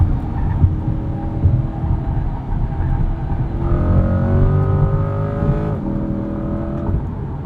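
A 2020 Chevrolet C8 Corvette Stingray coupe engine pulls hard from inside the cabin, its note rising as it revs through the gears, with a steady deep rumble and a brief shift before climbing again.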